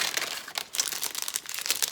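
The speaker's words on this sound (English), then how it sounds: "I'm kind of unwrapping things again." Crinkly wrapping is peeled and unwrapped from a haul item, giving a close, continuous rustle of crackling plastic or paper with small irregular bursts and no talking.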